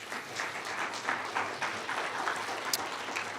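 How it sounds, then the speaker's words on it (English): Audience at a banquet applauding, a dense steady patter of many hands clapping in a hall, moderately loud and sustained across the whole stretch. "So let's give them a round of applause."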